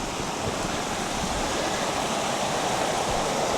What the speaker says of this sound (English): This is the kind of speed of water that I'm looking at.